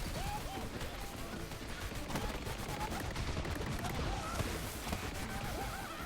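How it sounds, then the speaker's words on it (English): Gatling gun firing continuously in the video game Borderlands 3, a dense steady rattle of rapid shots with no pauses, holding at an even, moderate level for the whole stretch. "He's got a Gatling gun"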